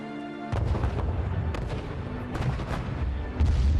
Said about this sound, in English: Rockets continue to fire from Gaza, and massive explosions rock Gaza City.